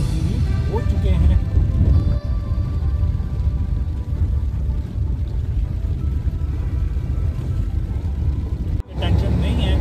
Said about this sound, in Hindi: बारिश आ रही है तो मैं बाहर निकल नहीं सकता